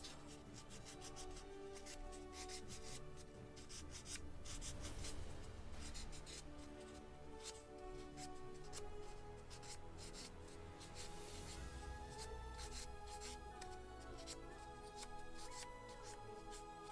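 Sandpaper of 400 grit rubbing over a small wooden model ship part, a steady close scratchy hiss of repeated strokes throughout, with a light faint background hum.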